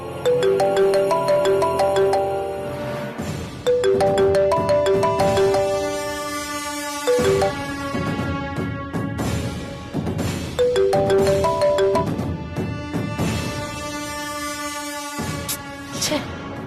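A phone ringtone plays loudly and repeatedly, a looping melodic chime pattern that cycles several times with short gaps.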